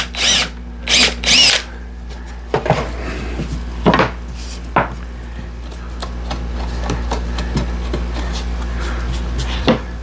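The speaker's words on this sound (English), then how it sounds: "drill some holes here" A power drill whirs in three short loud bursts, drilling holes in a workshop, followed by scattered clinks and knocks of tools against a low steady hum.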